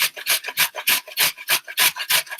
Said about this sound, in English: Trim off both, ends of the carrot and then just shred it